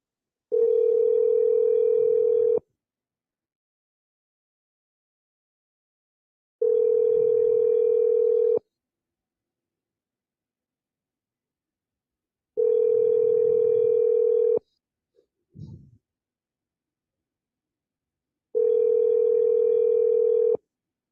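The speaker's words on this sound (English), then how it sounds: "you guys hear that ringing?" A telephone rings in long, steady tones, four rings spaced evenly several seconds apart with silence between, and a small knock after the third.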